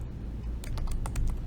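Keys clatter on a computer keyboard as text is typed into a running Python program, a quick run of close, crisp taps in the second half after a brief quiet start.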